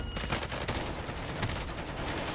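P90 submachine gun fire in Warzone bursts in dense, rapid volleys, loud and close, with overlapping shots filling the whole stretch.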